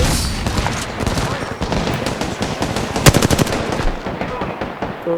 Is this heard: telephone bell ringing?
no